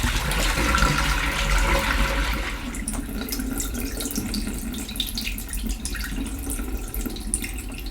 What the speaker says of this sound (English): Now that the first rinse is finished, it's time to empty the water once again.